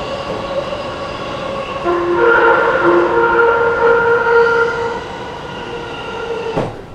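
Heard from inside a Japanese passenger train bound for Chiba: a steady rolling rumble with a rising motor whine that swells in the middle and then eases, ending with a brief sharp sweep, no voices.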